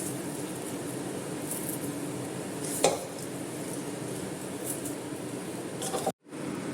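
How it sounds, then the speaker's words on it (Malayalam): Upma stirred in a pan over low flame, a steady soft sizzle with a single sharp clink of the spoon against the pan, ending in a brief cut to silence, no talk. "നന്നായിട്ടൊന്ന് ഇളക്കി കൊടുക്കണം."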